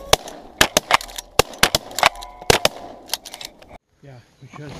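A rapid volley of sharp shotgun blasts at geese over decoys, about a dozen loud reports in quick succession, then a pause and faint voices.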